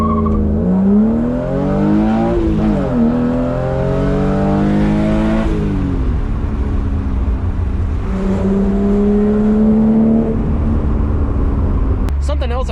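BMW E36 M3 with loud headers revving hard through the gears, the engine note rising and dropping in repeated pulls while drifting, close and loud from inside the car with a voice talking over it.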